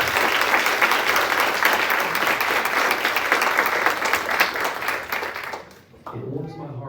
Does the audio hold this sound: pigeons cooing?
no